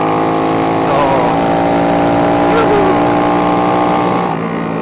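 A 190cc Astrea Grand motorcycle engine with Daytona Anima replica internals pulls up a very steep hill, a loud, close, sustained droning growl with a steady pitch that rises slightly, while someone talks over it.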